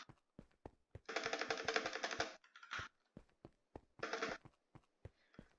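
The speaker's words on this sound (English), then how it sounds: "sorry if you hear my keyboard spamming." Computer keyboard keys spammed rapidly while playing Minecraft, sharp close clicks in quick irregular bursts, with faint in-game animal cries mixed underneath.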